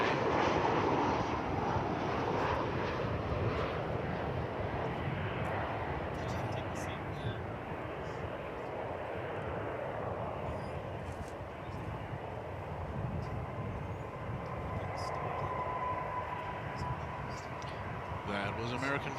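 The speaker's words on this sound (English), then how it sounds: "That was American Flight 1670 arriving from Albuquerque. 737-800." American Airlines Boeing 737-800 arriving at Dallas/Fort Worth from Albuquerque, a broad engine roar strongest at the start and easing into a steady wash, with faint voices mixed in.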